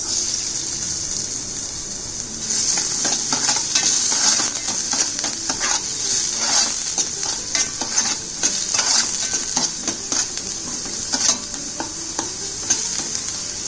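Chopped onions fry in oil in a pan with a steady, bright sizzle, joined by repeated scraping stirs of a spoon through the pan.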